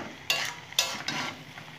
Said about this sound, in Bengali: চাল ডাল দিয়ে খুব সুন্দর করে আমি নেড়ে নেব